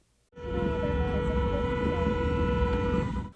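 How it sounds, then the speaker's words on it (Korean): Around a dozen motorcycles at dawn on a city road in Daejeon sound loud horns, a sudden sustained blaring tone that starts abruptly and holds steadily, with engine noise beneath. "늦은 새벽 시간 10여 대의 오토바이가 도로를 점령한 채 시끄러운 경적을 연신 울려댑니다"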